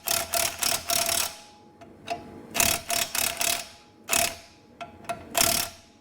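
A ratchet torques down parts on a Corvette in quick rhythmic bursts of close, crisp clicking, with brief pauses as the handle is reset between strokes.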